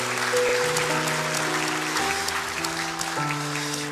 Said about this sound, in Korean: 우리 아이들에게 한번 우리 여러분 박수 한번 했으면